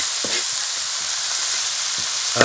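Young mango leaves stir-fry with crispy pork rind in a hot pan, giving a loud, steady sizzle throughout, broken by light scraping and stirring taps and a final clack of the utensil.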